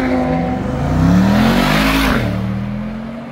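A Brabus sports car at a supercar meeting accelerates hard: a loud engine roar climbs in pitch, swells as it passes close, then drops and fades away.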